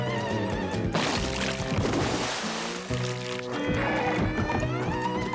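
A horse neighs loudly and bucks, with hoofbeats mixed into dense background music, close and continuous.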